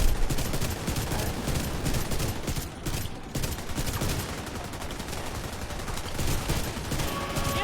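Dense, sustained gunfire during the Iron Horse raid in a shooter video game, with rapid overlapping automatic bursts and shots forming a loud continuous barrage.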